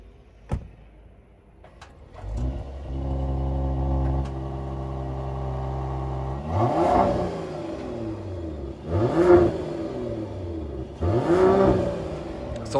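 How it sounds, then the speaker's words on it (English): A 2020 Mercedes-AMG GLE53 Coupe with performance exhaust in comfort mode starts up and settles into a steady idle, then revs three times in swelling blips, close and clear with no talk. "So now we will be demonstrating you the sound of this GLE53."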